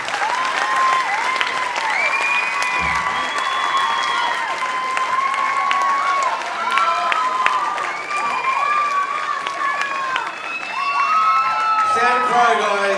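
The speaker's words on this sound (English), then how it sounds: "Guys, big round of applause." A large crowd at a Sons of Anarchy cast stage appearance in Brisbane applauds and cheers loudly and continuously, with whoops and shouts rising over dense clapping.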